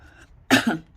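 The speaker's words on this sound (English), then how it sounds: "Excuse me for my coughing today." A single short, sharp cough breaks a quiet background, close to the microphone.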